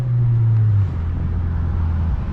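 An 8th generation Honda Civic Si with VTEC engine droning while driving in traffic, a loud steady low hum from inside the car that drops in pitch partway through as the revs fall.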